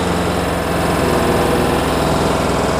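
Diesel engine of a Tata 1109 BS-IV truck running with a faulty injector and black smoke, a steady loud near rumble with even rhythmic pulsing throughout, no talk.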